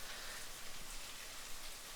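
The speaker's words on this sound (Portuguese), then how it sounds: "está chovendo bastante aqui enquanto eu estou gravando" Heavy rain pouring steadily outside, a soft, even hiss of drops on surfaces with no breaks, faint and distant, with no voices.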